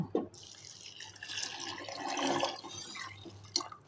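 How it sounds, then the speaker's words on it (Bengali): Boiled hot water poured close-up onto fried rice for a chickpea pulao, a steady splashing, gurgling pour lasting about three seconds with a small knock near the end. "এগুলোতে আমি আগে থেকে ফুটিয়ে রাখা গরম পানি দিয়ে দেব।"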